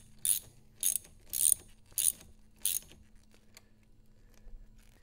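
Ratchet with a 10 mm socket tightening the 12V battery terminal on a Tesla Model 3, five short, sharp clicking bursts at a steady pace, near and alone, fading into quiet hum.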